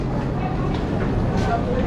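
A train rumbles at Mirzapur railway station, a steady, loud low roar with rolling mechanical noise and no clear breaks, heard close as if from the platform.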